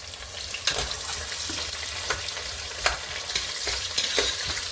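Three thick sliced onions frying in oil in a pan for chicken biryani, giving a loud, steady close sizzle with occasional scraping taps of a stirring spoon.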